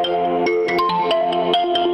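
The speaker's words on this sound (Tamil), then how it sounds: "ரிங்டோன் வரும்." An Android phone ringtone for an incoming call from an unknown number plays alone, a bright repeating melodic tone sounding steadily and fairly loud throughout.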